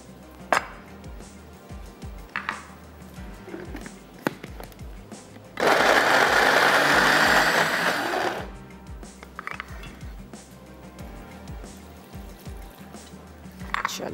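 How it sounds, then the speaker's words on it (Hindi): A kitchen blender runs hard for about three seconds, grinding boiled peas, coriander, onion, chillies and garlic with water, a dense whirring burst framed by quieter clinks and handling noises. "और ब्लेंडर को हमने अच्छा सा चला देना है"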